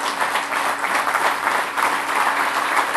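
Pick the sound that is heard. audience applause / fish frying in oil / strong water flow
audience applause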